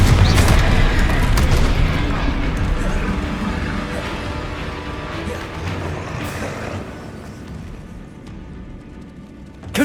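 Fire spell explosions from the Hogwarts Legacy video game, a dense, loud wash of booming blasts, creaks and mechanical clatter that gradually thins out over several seconds.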